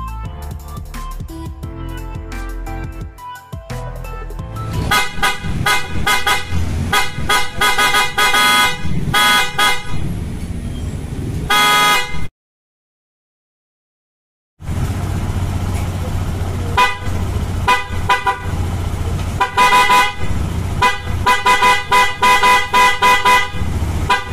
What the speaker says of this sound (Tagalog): Pinapalitan ko na din ng loud horn ang busina nito.